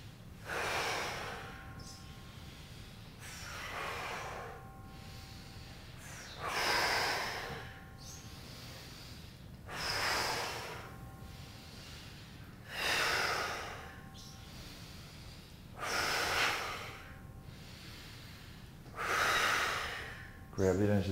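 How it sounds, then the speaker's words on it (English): Intense breathing exercise: a person takes loud, forceful breaths in regular surges about every three seconds, close and strong, with a low steady hum underneath. "Intensify the breathing. You're halfway there. Double the intensity."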